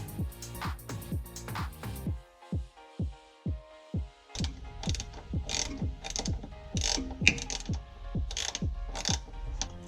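Ratchet tightening bolts while installing a DDMWorks Backbone brace in a Saturn Sky, rapid runs of crisp clicks, close and loud, followed by slower individual clicks and then another quick burst mixed with metallic rattling.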